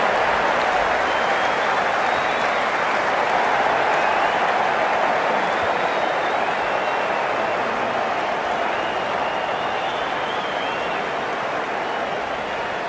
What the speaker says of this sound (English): The crowd's on their feet,